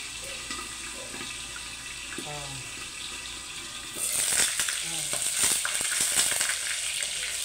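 Eggplant fries in hot oil with a low crackle that bursts into louder, busier spattering and popping halfway through, close up, with no voices.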